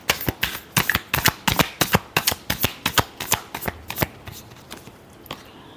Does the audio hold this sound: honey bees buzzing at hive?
no